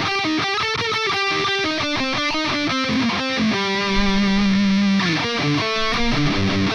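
Heavily distorted electric guitar playing a chorus riff, fast palm-muted chugs and picked notes leading into a held chord, loud and dense with effects, no voices.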